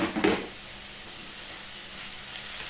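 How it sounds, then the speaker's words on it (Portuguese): Red peppers sizzling in olive oil with garlic, onion and leek in a pan, a steady soft frying hiss that carries on alone after a brief louder stir at the start. "E vou deixar ele fritar junto para agregar esse sabor do alho, cebola e o alho francês"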